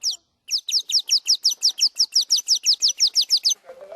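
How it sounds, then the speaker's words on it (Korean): A bright, birdlike chirping trill in a forest plays as a rapid run of about seventeen sharp descending notes, loud and close, then stops abruptly. "진짜 새가 날아와서 지저귀는 것 같은데요."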